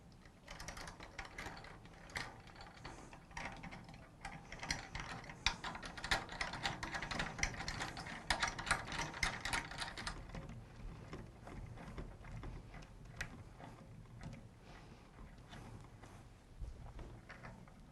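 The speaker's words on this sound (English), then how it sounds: "I'm now going to tension each of these lugs to make them finger tight" Lugs on a pipe band tenor drum being tensioned finger tight by hand give a steady run of close, dry ratcheting clicks and mechanical creaks, busiest in the first ten seconds and then thinning out, with no talking.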